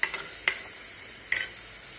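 Tomatoes sauté in a pan for a spicy Tamil fish curry, with a soft continuous sizzle broken by three sharp clinks of a stirring spoon.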